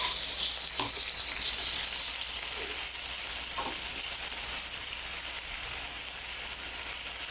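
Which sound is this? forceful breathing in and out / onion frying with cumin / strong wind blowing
onion frying with cumin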